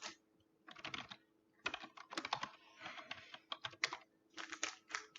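Quiet, close tapping on a computer keyboard in irregular bursts of keystrokes with short pauses, as when entering a password.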